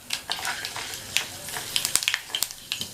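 Oil crackles and sizzles steadily with sharp little pops as fenugreek seeds fry in a hot pan for a sambar tempering, close up and fairly quiet.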